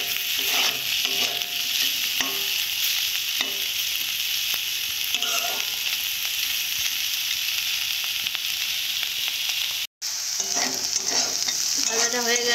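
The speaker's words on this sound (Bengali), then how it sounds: "ভাজাটা হয়ে গেছে, এইভাবে ভেজে নেবে।" Bitter gourd and potatoes frying in a pan, a steady close sizzle and hiss running throughout with occasional stirring scrapes, no voices.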